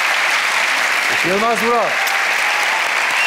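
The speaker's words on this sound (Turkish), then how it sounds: "Büyük alkışlar Yılmaz Vural." Loud, dense applause from a TV studio audience fills the room throughout as a voice briefly calls out a name over it.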